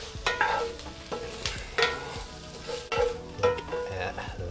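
A spatula scrapes and clatters in a hot pan in several irregular strokes as a fried egg is mixed into sizzling leftover smoked turkey sisig, with a soft frying hiss underneath.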